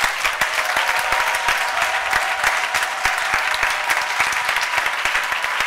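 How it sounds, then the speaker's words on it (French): A church congregation applauds steadily and loudly, with dense, continuous clapping from a large crowd throughout. "Merci d'avoir acclamé pour celui qui intercède pour vous"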